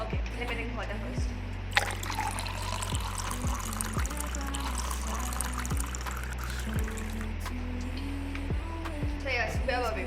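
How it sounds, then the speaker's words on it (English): Drinking water pours into a glass or cup, with a soft trickle and splash running under faint background sound and no clear talk. "let me drink water first"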